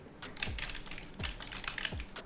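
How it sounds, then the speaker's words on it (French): Clicky keystrokes on a computer keyboard, close and crisp, tapping in an irregular run of quick presses with short pauses and no voices. "Vous entendez mon clavier les gars, c'est une dinguerie."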